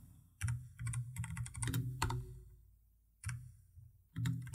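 Keys clatter on a computer keyboard in bursts of quick, light taps as text is typed, with short quiet gaps between runs; close and fairly soft, with no one speaking.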